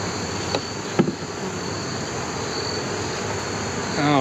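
Honey bees hum steadily inside a freshly opened hive on a stand, a continuous close buzz with a couple of brief knocks from handling near the start.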